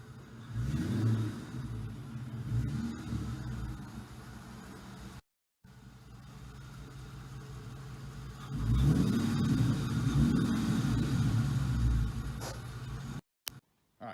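A 1999–2004 Ford Mustang Mach 1 rolls into a garage, its low engine rumble steady at first, then swelling louder in the second half before brief dropouts near the end.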